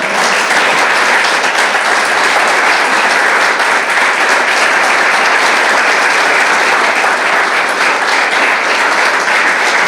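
A church congregation applauds God during a Spanish-language sermon, a loud, dense and steady wash of many hands clapping that carries on without a break.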